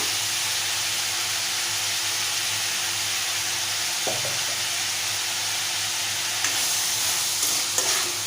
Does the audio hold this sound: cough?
no